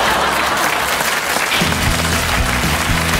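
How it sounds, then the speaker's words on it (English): Studio audience of a comedy panel show breaks into loud, sustained applause that fills the whole stretch, with a musical sting or band starting up under the clapping in the second half. "Give them all a round of applause."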